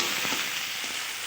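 Spice masala with green chillies stir-fried in a pan for aloo dum, giving a steady close sizzle with a few soft scraping stirs, no talking.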